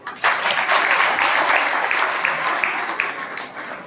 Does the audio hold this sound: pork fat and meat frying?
no